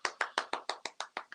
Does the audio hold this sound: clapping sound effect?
yes